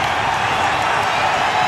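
A crowd at a men's field hockey semi-final between India and England at the 2010 Commonwealth Games cheers and claps. The noise is loud, dense and continuous throughout, a brief wash of excitement with no single standout sound.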